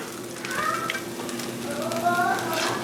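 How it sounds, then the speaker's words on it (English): Mushrooms sauté in a hot pan that has just held shrimp, a steady close crackling sizzle with scattered pops running continuously, a voice faintly present beneath the frying. "Kind of saute them a little bit. Let that just jump around."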